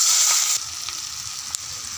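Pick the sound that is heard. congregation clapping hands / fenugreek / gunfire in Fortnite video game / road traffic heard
fenugreek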